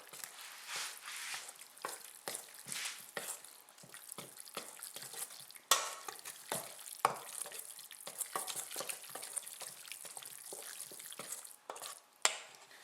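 Dumpling filling seasoned with sesame oil and pepper is mixed together in a bowl, giving soft wet squelching and scraping strokes in a steady irregular rhythm, close and quiet.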